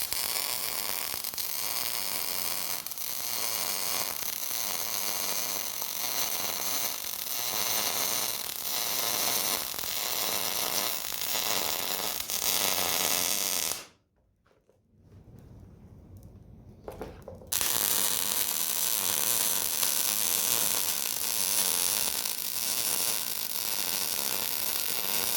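Welding on reinforcement plates for Cadillac lower A-arm mounts, a steady crackling, hissing arc held close for about fourteen seconds, then a brief pause with faint low noise before the crackle resumes at full strength.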